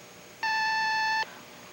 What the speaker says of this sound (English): leave a message after you hear the beep